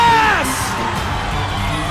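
Crowd at a PBA bowling event cheering and whooping after a televised 300 game, loud and sustained near the start and easing into a steady roar.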